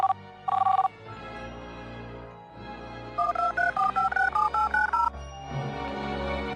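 Mobile phone keypad tones sound in quick runs of beeps, first a couple of isolated presses, then a rapid string of about a dozen, heard over a low background hum.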